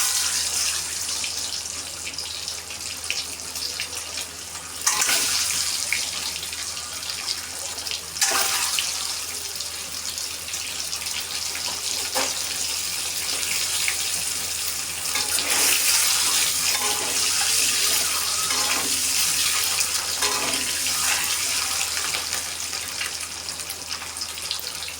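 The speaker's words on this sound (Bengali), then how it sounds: "ডিমগুলো লাল লাল করে ভেজে তুলে নেব।" Eggs frying in a pan until browned for an egg and potato dish, giving a steady, close sizzling hiss that runs unbroken for about 25 seconds, with no voices.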